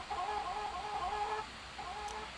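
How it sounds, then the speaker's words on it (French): Chickens cluck in The Sims Bustin' Out on the Game Boy Advance, a run of fairly quiet, repeated clucking calls in game sound. A short pause follows, then the clucks return more softly. "Non mais les poules elles sont dans la grange ou c'est comment? Là ça fait un bruit de malade."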